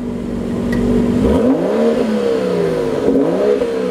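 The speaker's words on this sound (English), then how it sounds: "Rev it." BMW F30 340i sedan engine revving up twice from a steady idle, each rev rising in a throaty surge and dropping back down, loud and close with no talking.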